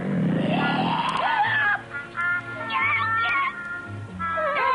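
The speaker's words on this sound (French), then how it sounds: "C'est vrai que ça ressemblait plus à un lion qu'à un chat." A cat gives a drawn-out growling, lion-like yowl, with rising and falling wavering cries repeated over a few seconds, loud and close against a steady background rumble.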